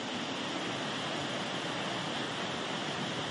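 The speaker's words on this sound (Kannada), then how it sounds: "ಹಾಲು ನೊರೆಯಂತೆ ಬಿಳಿಯ ನೀರು ಎಷ್ಟು ಚೆನ್ನಾಗಿ ಹರಿತಾ ಇದೆ" Waterfall water pouring at Charmadi Ghat in heavy rain, a dense, constant roar of rushing water that stays loud and unchanging throughout, with no voices.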